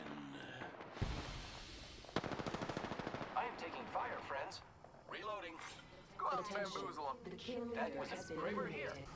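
Gunfire in a fight in the video game Apex Legends: a loud single shot, then a rapid automatic burst, with scattered later shots under frequent talking.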